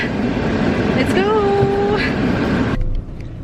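A family car pulls out, its steady engine and road rumble filling the whole stretch until the noise drops off sharply near the end, with a brief voice heard over it.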